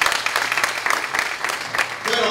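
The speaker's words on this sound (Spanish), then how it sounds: "Den un aplauso, pero fuerte" Enthusiastic audience applause at a Spanish-language motivational book talk, a thick continuous burst of clapping with bursts of cheering mixed in, loud and sustained through the short stretch.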